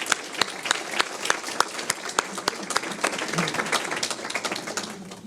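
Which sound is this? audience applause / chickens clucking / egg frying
audience applause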